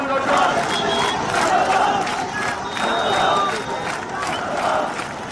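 A large crowd fills the streets of Dhaka to welcome Rahman, a dense roar of many voices and chanting that swells and dips continuously.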